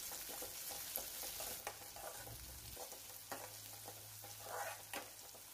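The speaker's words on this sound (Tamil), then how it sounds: "வெங்காயம் ஓரளவுக்கு வதங்கியிருக்குங்க, கலர் சேஞ்ச் ஆகிருக்கு பாருங்கள்." Onions frying in a pan for vendakkai kulambu, a steady soft sizzle with occasional stirring clicks, close and quiet with no talking.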